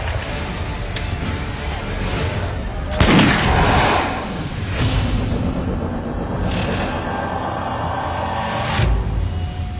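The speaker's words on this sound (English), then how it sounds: "Europeans pick up on the idea, embracing and perfecting gunpowder weapons." Gunpowder weapons firing in a dense battle: booming artillery and crackling gunshots overlap continuously, with heavier blasts standing out now and then over a constant roar.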